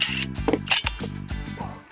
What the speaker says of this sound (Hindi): इसको दोबारा से स्क्रू को खोल लेते हैं।